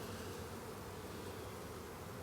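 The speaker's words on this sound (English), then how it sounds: "Look at all them bees." A dense, steady buzzing of many honey bees at a hive, continuous and close, filling the whole moment with a low droning hum.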